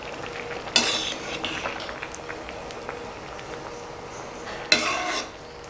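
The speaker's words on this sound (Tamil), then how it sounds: "இதை சேர்த்துட்டு நல்லா மிக்ஸ் பண்ணி விட்டுறலாம்." Spoon stirring coconut paste into aviyal in a kadai, with two sharp scraping clatters against the pan between quieter soft stirring and faint simmering.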